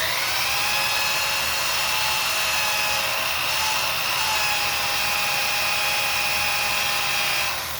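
Buffing wheel spinning with a steady high whine and constant rubbing hiss, close and unbroken, no voices.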